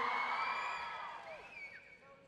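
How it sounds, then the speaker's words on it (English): A panel audience at VidCon cheers and whoops, mostly at the start. The sound is bright and crowded, then it fades and thins out toward the end. "That's where you cheer."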